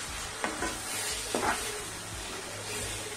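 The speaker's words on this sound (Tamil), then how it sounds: "நல்லெண்ணெய் மட்டும் மேல விட்டுட்டு இது ஒரு கிளறி கிளறி விட்டுருவோம்" Tamarind puliyodharai paste with sesame oil gets stirred in a pan, a soft continuous sizzle with a couple of distinct scraping strokes of the spoon, close and fairly quiet.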